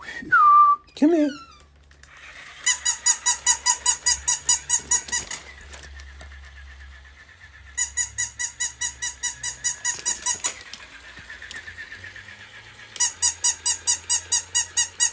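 A squeaky toy dog meant for a cat gives rapid runs of high rhythmic squeaks in three long bursts, close and loud, with a couple of brief squeals at the start and quiet pauses between.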